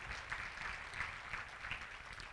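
A church congregation applauds with a steady, moderately loud wash of clapping, continuous and unbroken throughout.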